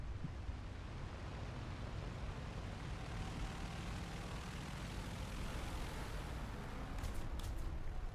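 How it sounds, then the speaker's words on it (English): A biplane in the War Thunder combat flight game drones steadily with a continuous propeller engine roar, dense and unbroken for the full stretch. "He's got a biplane."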